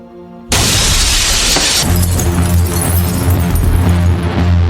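A glass bed shatters in a sudden loud crash that follows a quiet start, then scattering shards and a rumbling tail continue under music.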